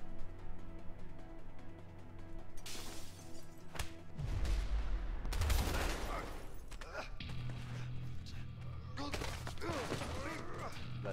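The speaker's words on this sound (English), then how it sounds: "I will shoot him." Gunfire and crashing impacts in the video game A Way Out, a burst of loud booms and smashing hits in the middle with scattered thuds around it, mixed with game sound.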